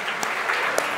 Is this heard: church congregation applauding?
yes